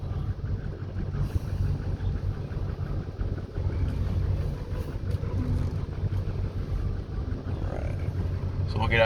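A 2005 Ford Excursion 4WD with the 6.0L diesel engine runs steadily, giving a continuous low, even rumble at close range throughout.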